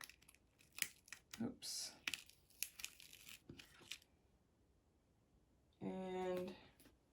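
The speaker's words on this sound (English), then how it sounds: "Now, I am going to peel this tape off." Masking tape peels off watercolor paper in a long, loud, rasping rip near the end. It follows scattered soft crinkles and taps, and a voice briefly exclaims.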